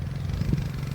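A CRZ Racer 100cc go-kart engine held at full throttle drones steadily and fairly quietly from a distance, a low even buzz with no voices.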